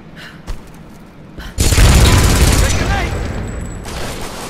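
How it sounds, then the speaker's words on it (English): A minigun fires in a video game: after a quiet start, a loud, sustained burst of rapid gunfire kicks in and keeps going to the end. "Oh, my minigun"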